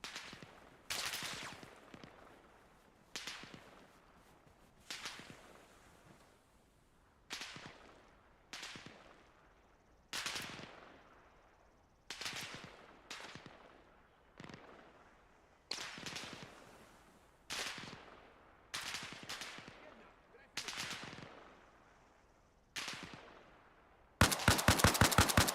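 Gunfire in ArmA Reforger, a firefight at a sawmill, rings out as sharp single shots and short bursts spaced every second or two, each cracking loudly and echoing away. The shots build to a rapid automatic burst at the end.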